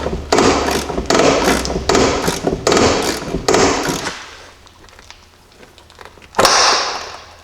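Seized leaf spring shackle bolt being worked loose on a Jeep Cherokee XJ, a run of loud rhythmic ratcheting strokes that stops, followed by a quieter stretch and a sharp metallic clank near the end.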